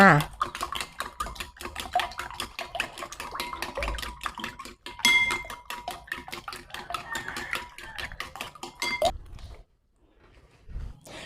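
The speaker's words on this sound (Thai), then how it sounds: "หลังจากนั้นก็ตีผสมให้เข้ากันเลยค่ะ" Rapid, steady clicking of a utensil beating egg batter in a bowl for Thai fried eggplant, close and fairly loud, running continuously for about nine seconds before stopping, with a few faint knocks afterward.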